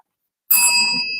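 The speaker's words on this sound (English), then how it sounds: "ring the bell." A single bell struck once after a moment of silence, giving a bright, loud ding that rings on and slowly fades, with no voices.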